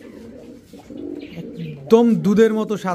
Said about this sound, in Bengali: সব ডিম বাচ্চা করা কবুতর